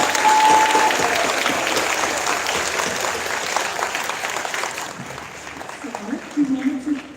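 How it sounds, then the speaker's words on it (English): A school assembly crowd claps, a dense patter of hands that is loudest at first and gradually thins out, with a voice starting to speak near the end. "We wanted to give you guys a round of applause for all you've done this"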